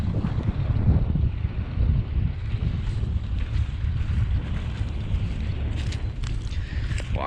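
Light wind outdoors in a corn field, a continuous rushing buffet of breeze over the microphone, loud and steady throughout with faint rustling near the end.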